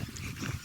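A brief, quiet dog sound, a short low huff or bark from nearby, lasting under a second.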